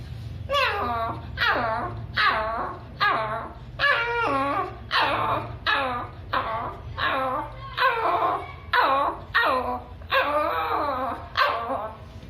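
A man imitates small puppies with his voice, giving a rapid series of high yipping whimpers and little barks in an even, repeated rhythm, loud and close over a faint background hum.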